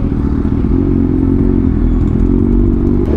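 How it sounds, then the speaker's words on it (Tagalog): Motorcycle freshly filled with Amsoil engine oil, riding with a steady, loud engine drone and heavy low rumble, continuous with no speech. "So ngayon tetestingin natin ang ating motor na bagong change oil."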